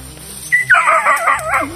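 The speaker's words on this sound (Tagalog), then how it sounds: "May aso silang dala" A video game dog whines and yips in a rising, wavering howl, loud and close, with a faint electronic hum beneath.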